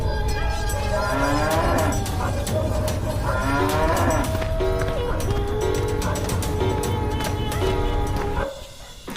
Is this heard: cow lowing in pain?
yes